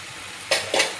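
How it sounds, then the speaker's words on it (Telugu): Masala with ginger garlic paste frying in a pan for biryani, a short burst of sizzling with a few quick stirring scrapes up close. "పచ్చి వాసన అంతా పోయినంత వరకు మనం అది బాగా వేపుకుందాం"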